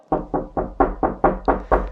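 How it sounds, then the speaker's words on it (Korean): Knocking on a door: eight firm, evenly paced knocks in a quick steady rhythm, close and loud, each a dull wooden thud, with no voices present. "문 두드리는 노크 소리였습니다."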